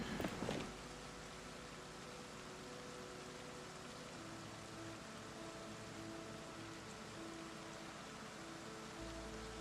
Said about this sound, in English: And the rain is falling.